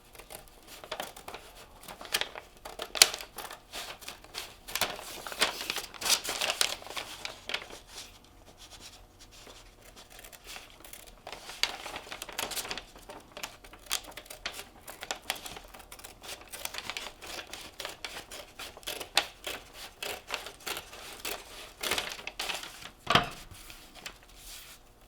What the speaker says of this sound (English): take your scissors and we're going to cut the bottom of the bag off